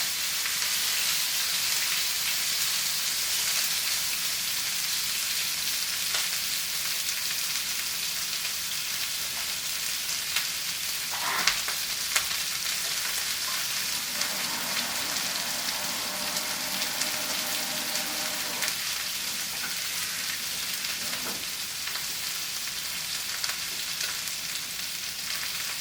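Cut-up pork pieces frying in a pan on moderate heat for Japanese buta dofu, a steady continuous sizzle close by with a few brief louder crackles and stirring noises, no talking.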